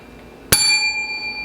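A single bright notification bell ding strikes once and rings out with clear, sustained metallic overtones that fade slowly, loud and alone.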